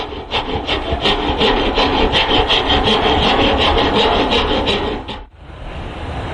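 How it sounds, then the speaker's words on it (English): Steady, rhythmic rasping of a hand rasp shaping wood for a wall shelf, loud and close, a quick stroke repeating until it stops near the end. "using a stroke at about a 45-degree angle, we're going to start shaping our wood"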